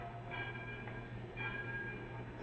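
A train running on rails as a radio drama sound effect: a steady low rumble with a periodic clacking swell and a faint high whine, heard alone without voices.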